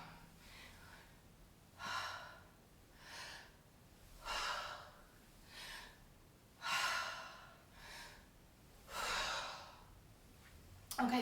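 Slow, deep yoga breaths, inhales and long exhales drawn in and out through the nose and mouth, close and soft, repeating in a steady cycle about every two to three seconds with no speech.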